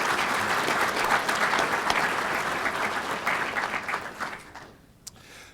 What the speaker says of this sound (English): give our elected officials a round of applause for the service